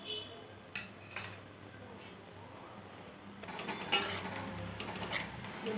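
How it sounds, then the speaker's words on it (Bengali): Dried red chili paste is mixed into cooked greens in a pan, giving faint, sparse utensil clinks and scraping over a steady low background hum. "ভালো করে লঙ্কা বাটাটাকে মাখিয়ে নিব।"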